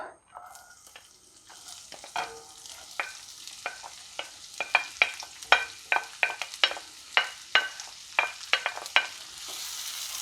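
Onion fries in 2-3 tablespoons of oil in a pan over medium heat, sizzling steadily while a utensil scrapes and stirs in quick irregular clicks, growing busier toward the end.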